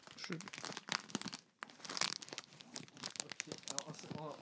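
A bag of popcorn kernels is torn open by hand, giving close crinkling and crackling plastic rustle with a brief tearing sound, while people talk over it throughout.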